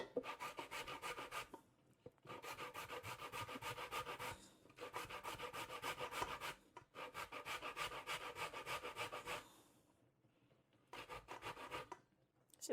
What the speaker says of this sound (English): I'm gonna grate some more.